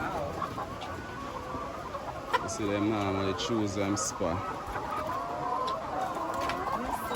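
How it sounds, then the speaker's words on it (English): Layer hens on a poultry farm cluck and squawk close by, with a short burst of louder calls in the middle, heard under people talking. "There's so much chicken."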